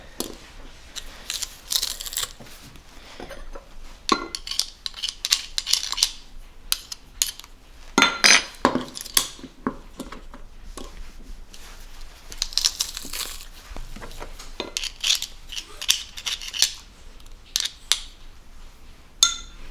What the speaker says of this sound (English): We are going to just press the garlic.